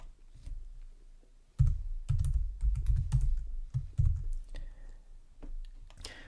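Keys on a computer keyboard are tapped in quick bursts while a formula is typed, a close run of soft clicks and thumps with brief pauses between words.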